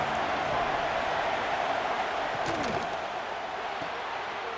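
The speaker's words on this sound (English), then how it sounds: "This crowd ready to make its presence known." Stadium crowd in a College Football 26 video game rivalry matchup, Clemson versus South Carolina, roars as a broad continuous wash of cheering noise, loud and unbroken throughout with a brief faint voice.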